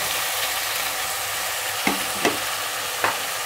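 Chopped ridge gourd tossed into a hot pan, sizzling steadily and loudly close by, with three sharp scraping stirs of the spatula against the pan.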